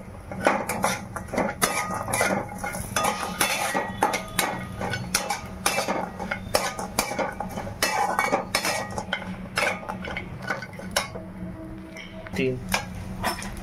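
Chopped dry coconut roasts in a pan while a utensil scrapes and clinks against the metal in steady, repeated strokes, a voice talking over the stirring.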